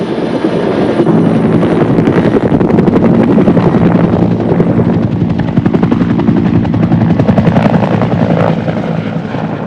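A Bell AH-1 Cobra attack helicopter, using the UH-1 Huey engine, rotor and drive system, gives a loud, close turbine roar with rapid rhythmic rotor blade chop, steady throughout with some wind buffeting.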